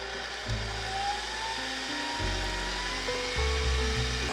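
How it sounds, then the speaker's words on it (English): An electric hand mixer whirs through a bowl of batter as two eggs are beaten into cake mix, a close, steady motor hum whose pitch steps up and down as the speed changes. "I'm gonna give that a mix before we add in the chocolate cake"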